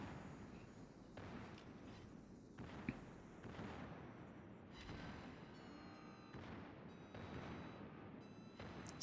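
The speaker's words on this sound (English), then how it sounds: "Secondaries going off there on the Alabama." Secondary guns on the battleship Alabama fire in World of Warships, a ragged series of distant booms and cracks over a constant rumble, with no voices.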